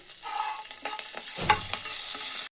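Hot oil sizzles and crackles steadily as curry leaves and sesame seeds drop into a tempering, with a brief stir and a louder burst of spitting midway before it cuts off.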